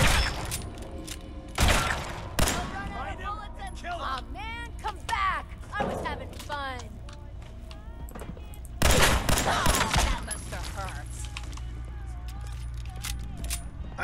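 Gunfire in Fallout 4 aimed at the player from an enemy only a few feet away: a loud close burst near the start, then scattered sharp shots and thuds. Speech comes and goes over it, and another heavy burst lands around the middle.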